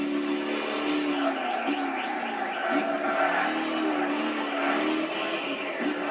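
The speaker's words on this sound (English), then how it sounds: "And the car that I'm driving is also one of the classics." A classic car races in Gran Turismo 6: a steady engine drone with rising and falling pitch sweeps as it shifts through gears, loud and continuous throughout.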